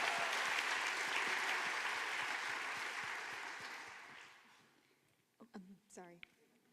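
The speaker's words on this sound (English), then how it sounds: "Let's give a big round of applause" A crowd applauds steadily for several seconds, the clapping fading out before a voice begins speaking.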